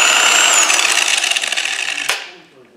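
A Harbor Freight electric dual-action polisher runs loud and close with a high whirring whine and a fluttering orbit, then shuts off with a sharp clunk and winds down fading.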